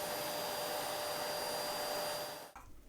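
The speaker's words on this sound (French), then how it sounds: "Allez, encore un coup d'aspirateur." A vacuum cleaner runs steadily while cleaning out an old 2001 Packard Bell desktop computer during restoration, a constant whirring drone that cuts off abruptly near the end, leaving a quieter hum.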